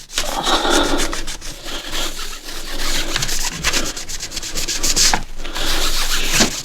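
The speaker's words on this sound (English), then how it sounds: "I'll just give it like a little scrub here and there" The casing of an Asus X550JK laptop is scrubbed by hand in quick, uneven back-and-forth strokes, giving a close, fairly loud rubbing and scratching sound with brief breaks between bursts.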